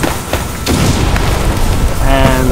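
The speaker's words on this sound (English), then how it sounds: "It's going to light this guy on fire and he'll blow up." A burning goo ball blows up in the puzzle game World of Goo, a soft boom over a dense, steady game soundtrack, followed by a brief bright tonal chime near the end.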